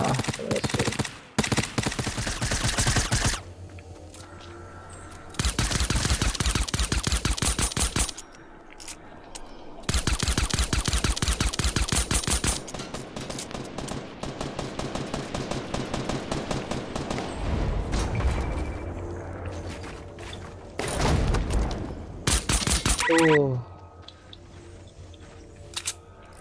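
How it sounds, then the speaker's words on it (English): Fortnite gunfire in a 2-versus-18 match crackles in rapid bursts and sustained automatic volleys, loud and close, broken by short pauses and a few single shots, with no voices over it. "Are you getting shot at? Are you shooting at something?"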